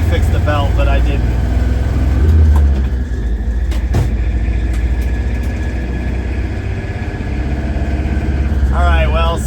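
A 1959 Plymouth diesel taxi engine runs at a steady, loud low rumble throughout, with a brief sharper knock near the middle and someone talking over it.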